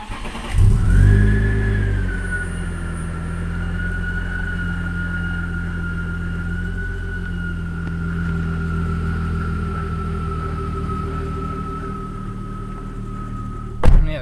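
A BMW E36 engine cranks and catches with a brief loud burst, then settles into a steady idle hum with a faint whine on top, ending with a short knock or thump at the close.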